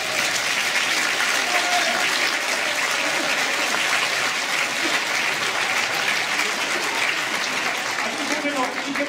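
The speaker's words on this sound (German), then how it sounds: "Applaus bitte!" A concert audience at a brass band show applauds steadily, dense, even clapping filling the hall for the whole stretch, with a few voices and faint whoops mixed in.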